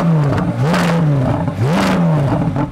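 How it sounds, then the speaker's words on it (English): A Corvette Z06's naturally aspirated V8 with sports exhaust is revved twice in quick succession, each loud close blip climbing and bouncing off the soft limiter before falling back to idle. "You might think it's a bit of a shame that the Z06 has a soft limiter, so when you rev it, it doesn't go very high."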